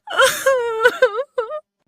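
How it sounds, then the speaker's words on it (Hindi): A cartoon woman cries at night in a forest, a few drawn-out wailing sobs with breathy catches, clear and close, then a short final whimper before silence. "ये रोने की आवाज"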